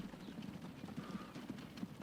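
Quick, regular hoof clops from a horse on the move in the video game Transport Fever 2, with a faint background wash, over about two seconds.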